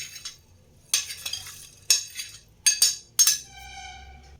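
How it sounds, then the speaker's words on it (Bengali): A spoon stirs dry fruits into fruit juice for a Christmas fruit plum cake, giving five or six distinct clinks and scrapes against the bowl in an uneven rhythm, close and fairly quiet. "ড্রাই ফ্রুটসগুলো খুব ভালোভাবে উল্টে পাল্টে মিশিয়ে নিয়েছি"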